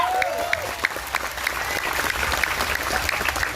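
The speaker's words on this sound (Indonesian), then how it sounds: "tepuk tangan untuk NU Taiwan." Audience applause at an Indonesian Islamic religious lecture in Taichung, Taiwan, a steady patter of many hands clapping for a few seconds with scattered sharper claps and a faint voice early on.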